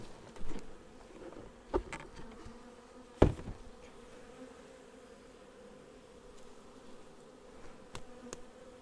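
A swarm of honey bees buzzes steadily around a hive during installation, a continuous mid-pitched drone with a few louder knocks and bumps, no talking.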